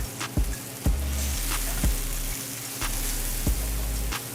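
Garlic and vegan butter sizzle in a pan with a close, steady frying hiss. Sharp clicks and taps from a utensil against the pan come at regular intervals.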